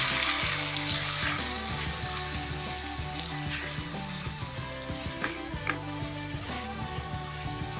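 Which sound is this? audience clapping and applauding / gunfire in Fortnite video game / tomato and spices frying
tomato and spices frying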